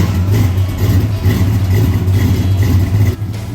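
A 1955 Chevy engine fitted with a new Flowmaster exhaust, running with a steady low rumble and loping idle pulses, close and loud, with no talk over it.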